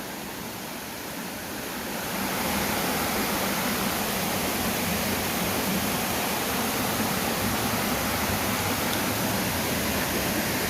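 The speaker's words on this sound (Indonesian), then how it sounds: "Cuman ada suara air mengalir dan beberapa binatang seperti serangga, jangkrik" Steady, dense rush of flowing water at a quiet, remote spot, swelling louder after the first couple of seconds and then holding constant, with any insect or cricket sounds buried under the broadband wash.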